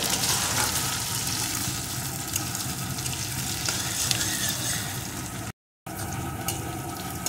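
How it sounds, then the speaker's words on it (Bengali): Green chilli, onion and garlic frying in a pan for chicken curry, a steady close sizzle with stirring scrapes throughout and a brief gap near the end. "এখন কাঁচা লঙ্কা পেঁয়াজ রসুন বেশ কিছুক্ষণ আমি ভেজে নেব।"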